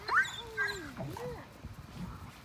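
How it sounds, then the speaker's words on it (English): Dogs playing in snow give short whimpers and yips with a rising and falling whine, close by, while a person talks over them outdoors. "The dogs are loving it."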